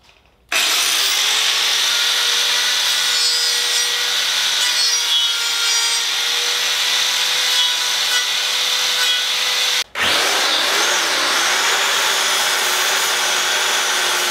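A powered carving blade cuts into a wooden sculpture, a loud, sustained grinding whine that stops briefly partway and then resumes cutting.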